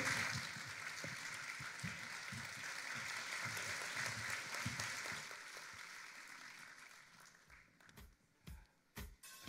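Audience applause at a film and theatre festival opening ceremony, a dense sustained clapping from a large crowd that thins and fades toward the end, leaving a few scattered final claps.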